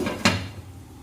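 A lid set down onto a pot of spinach and tomatoes cooking on a stove, one sharp metallic clank followed by a faint ringing and low kitchen hum.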